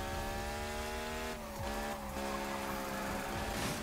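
Revving hot rod engine from Need for Speed 2015, sounding like a Formula 1 car, holding a loud, high, steady whine with brief dips between gear changes and a faint tire skid, no talk.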